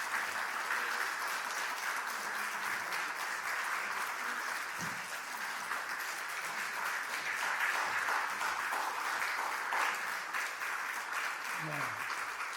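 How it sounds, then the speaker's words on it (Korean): A church congregation applauding together to congratulate members at an Easter service with baptism and communion, a dense sustained clapping wash lasting the whole stretch, with a voice briefly heard near the end. "우리 같이 박수 한번 하시죠."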